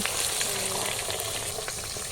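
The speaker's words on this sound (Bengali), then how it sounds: "মাছ ভাজা অর্ধেক ভাজা হয়ে গেছে" Steady crackling sizzle of stinging catfish (shingi) frying in hot oil, continuous and close, with no voices.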